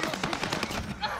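Rapid automatic gunfire in a video game, a burst of about nine or ten quick evenly spaced shots in just over a second, loud and close, with speech during the burst.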